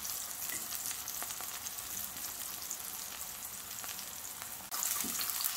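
Vegetable slices, aubergines among them, sizzle steadily in a hot pan for a thin vegetable tatin tart, a close and continuous frying hiss that swells slightly louder near the end, with no talk.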